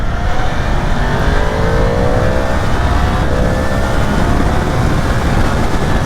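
A 2023 Yamaha MT-10 engine revs high, climbing steadily in pitch as it accelerates on slippery roads, loud and close, with wind roar underneath throughout.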